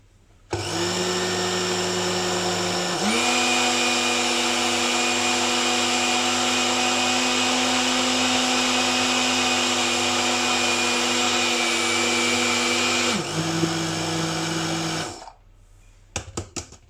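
An electric kitchen grinder whirs steadily as it grinds sugar finer, a loud, even motor whine that steps up in pitch partway through, then drops and stops with a few rattles at the end.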